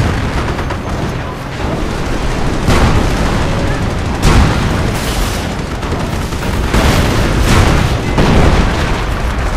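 Artillery barrage in the World War II strategy game Company of Heroes, loud repeated booming explosions rolling over a dense battle din, with several heavy impacts standing out.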